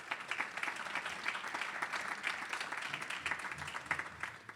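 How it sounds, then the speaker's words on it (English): Steady audience applause fills a hall at a university faculty research celebration, dense overlapping clapping holding an even level throughout without any voices rising above it. "Let's give them a round of applause."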